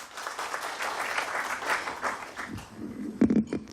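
Audience at a book launch event clapping to welcome a speaker, a dense roomful of applause that tapers off near the end, followed by a few louder close claps.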